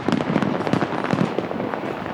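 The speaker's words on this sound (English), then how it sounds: "watching as the night sky lights up with this spectacular that is the London fireworks display" London's New Year fireworks display bursts overhead in a dense, continuous run of booming bangs and sharp crackles, loud and fairly close, with no speech.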